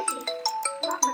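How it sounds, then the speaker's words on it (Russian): A phone rings inside a survival-building video game, sounding out bright repeating melodic chime notes in a quick pattern, loud and close with nothing else over them. "ему реально звонят по звонку на своем телефоне"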